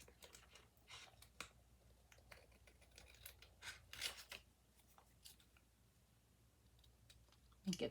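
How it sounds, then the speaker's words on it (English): Quiet snipping and scratching of scissors cutting along tracing paper, a soft irregular run of close, faint clicks and rasps with a louder crunch near the end. "And then I'm going to cut again along my tracing paper."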